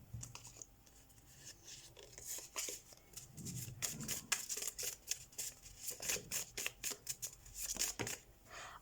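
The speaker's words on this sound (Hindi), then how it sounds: "तो सबसे पहले हम कार्ड शफल कर लेते हैं।" A deck of tarot reading cards being shuffled by hand, soft rapid riffling and flicking bursts close up, quiet and irregular over about nine seconds, with no talking.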